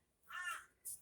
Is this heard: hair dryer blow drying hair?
no